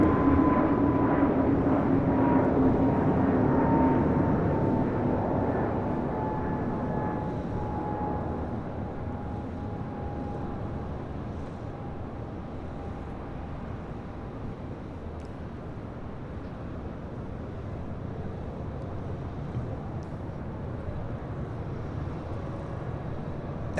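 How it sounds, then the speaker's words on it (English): An Avianca Airbus A320neo departing LAX makes a loud jet roar with a whining engine tone that fades slowly as it recedes. "That was Avianca Flight 641 heading to Guatemala City in an A320 Neo"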